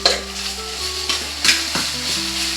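Talimpu tempering for a drumstick leaf (munagaku) and telagapindi curry sizzles steadily in hot oil, with the clatter of a stirring spoon against the pan breaking in several times, close and alone.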